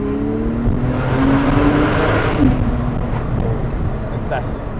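A Porsche 911 Carrera S (997.2) revs in a tunnel, its engine and exhaust rising loudly and echoing around the walls, with a voice speaking over part of it.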